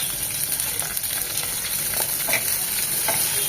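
Chopped garlic and onion sizzling in soybean oil with steady crackling and occasional stirring scrapes, continuous and close throughout.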